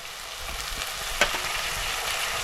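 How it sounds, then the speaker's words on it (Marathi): Peas and mixed vegetables frying in hot oil in a pan over a wood-fired stove, a steady close sizzle with one sharp clatter partway through. "आता या इकडे आता आपण भाज्या टाकूया मटार"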